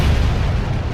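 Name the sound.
massive explosion at a chemical reactor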